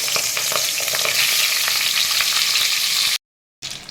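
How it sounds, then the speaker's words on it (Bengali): Fish heads frying in mustard oil in a wok, a dense close sizzle with crackling spatters that cuts out abruptly near the end, then briefly resumes. "কড়াতে সর্ষের তেল দিয়ে দিয়েছি এবার আমি মাছের মাথাগুলো ভাজে দিয়ে দিচ্ছি"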